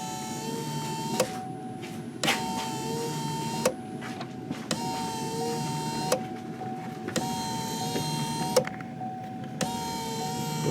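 Wiper motor and linkage on a Chevy Equinox cycle through steady sweeps, a whirring mechanical hum broken by sharp clicks roughly every one to one and a half seconds, close and fairly quiet.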